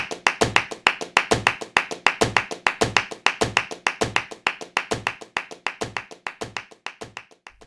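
Flamenco palmas: crisp hand claps in steady offbeat compás rhythm, sharp repeated strokes with some accented louder claps, close and dry, alone without talk.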